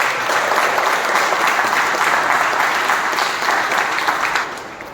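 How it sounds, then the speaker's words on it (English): A hall audience claps steadily at a club meeting, a dense and loud round of applause that holds for several seconds before starting to taper off at the end. "Can we have a huge round of applause for her?"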